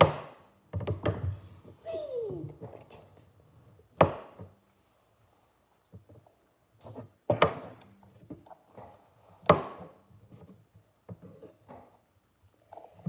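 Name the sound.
knife slicing a banana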